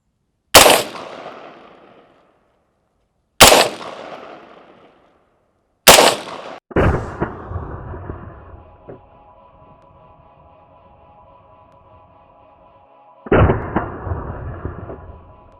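AR-15 semi-automatic rifle fired outdoors: three sharp, loud single shots spaced a few seconds apart, then a quicker volley of several shots with ringing echoes, and one more shot near the end.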